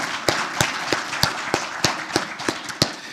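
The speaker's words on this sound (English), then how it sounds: "give our honorees a round of applause for their dedication" Clapping for distinguished alumni honorees at a school celebration, heard as sharp, evenly spaced claps at a slow, steady beat, about ten in a row, with little else around them.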